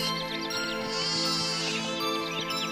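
Goats bleat in a children's story, several high wavering calls in quick succession over a steady musical bed, fairly close and clear with no talk.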